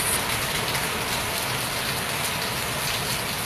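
Steady, dense rainfall hisses evenly throughout, a close continuous wash of drops with no breaks.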